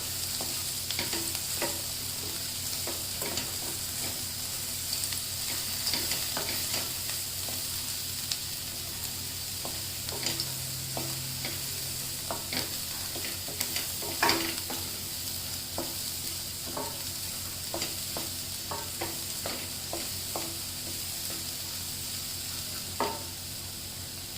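Dry moong sabzi (whole green gram) cooking uncovered in an open pan, giving a soft continuous sizzle with scattered light stirring scrapes and taps, steady and fairly quiet throughout.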